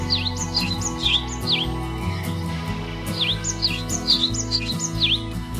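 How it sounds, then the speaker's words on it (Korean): Tit-family birds (Paridae) in a mountain forest on Geumjeongsan, Busan, give repeated high, clear chirps in short descending phrases, moderately near, over steady low background drone, no talk. "박새과 새들은 산속에서 가장 많이 관찰되는 새입니다."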